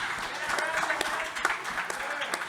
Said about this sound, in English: Let me hear a clap for it, boys.